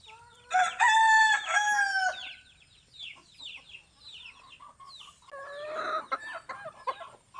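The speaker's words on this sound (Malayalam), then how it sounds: "ഇപ്പം കൂവാൻ തുടങ്ങിയിട്ടുണ്ട് കേട്ടോ" Spurred Aseel cross rooster crowing close by: one loud, drawn-out crow, then a quieter, rougher second call a few seconds later, with soft background noise between.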